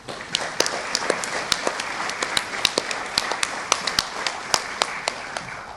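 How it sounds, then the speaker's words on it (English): An audience claps for the officers team at a 2022 FFA awards banquet, a fairly steady patter of many hands with sharp individual claps standing out over a quiet room. "Let's give our officers team another round of applause"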